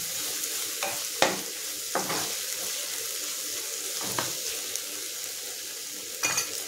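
Onions and tomatoes frying on a low flame for mutton mango curry, a steady soft sizzle broken by several scraping stirs of a spatula in the pan, heard close without talk.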